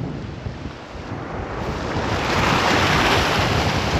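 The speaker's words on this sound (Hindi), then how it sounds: "देखिए काफ़ी लहरें यहाँ तक आ रही हैं, मेरे पैरों तक लहरें आ रही हैं" Sea waves at the shore at Somnath surge in with a broad rushing roar that swells louder over a few seconds, mixed with wind buffeting the microphone, close and steady.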